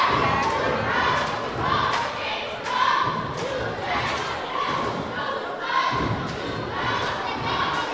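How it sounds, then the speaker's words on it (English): Volleyball fans from Barton holler and cheer across a gym during a match against KIPP Delta, a dense, continuous crowd roar with rising shouts and scattered thuds from the court, steady and fairly loud. "And now you hear the partisans from Barton hollering back"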